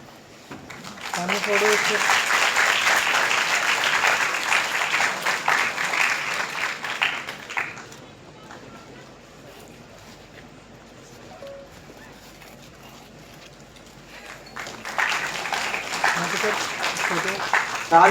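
An audience at a student guidance event breaks into loud applause, fades to a quieter murmur midway, then swells into clapping again near the end.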